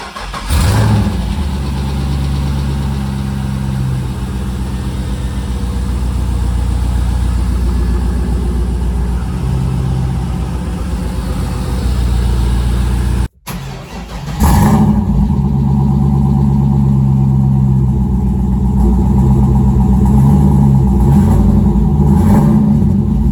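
A Mazda RX8 rotary engine with a custom stainless exhaust turns over and idles with a loud, steady drone. It cuts out briefly, then fires again and settles into a deep, close idle with occasional revs.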